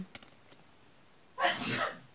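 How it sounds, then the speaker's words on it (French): A sudden, loud sneeze from a girl, a single burst after a quiet stretch with faint background noise, while on holiday. "Chérie qui éternue."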